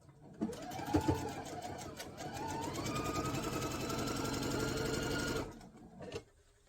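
A sewing machine stitches fabric pieces together, its motor winding up into a steady, close mechanical chatter for about five seconds before stopping.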